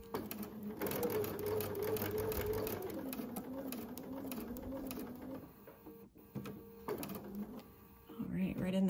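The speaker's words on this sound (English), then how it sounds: "I'm actually sewing with my stitch length at 2" A sewing machine set to a short stitch length backstitches a Y-seam, a steady close mechanical whir that pauses and shifts pitch as it reverses and runs forward again, with faint voice in the background.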